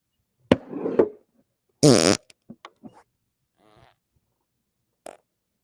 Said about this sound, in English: interrupting myself with a fart